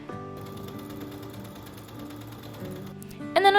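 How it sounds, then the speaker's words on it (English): A sewing machine runs steadily at close range, stitching around the collar and leg seam edges of a bodysuit costume with a continuous mechanical whir, ending in a sudden brighter clatter. "I'm going to be sewing around the edges that are going to be exposed"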